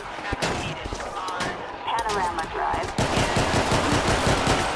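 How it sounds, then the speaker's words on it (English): Rapid bursts of automatic gunfire in GTA 5 during a sheriff patrol shootout, loud and dense, building into a sustained rattling volley with a voice talking over it. "Oh, shots fired."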